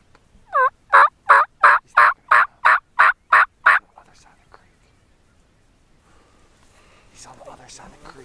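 A wild turkey gobbles from its roost on an opening-day spring hunt in Maryland, a rapid run of about ten loud, evenly spaced gobbling notes, followed by quiet rustling and hushed whispers.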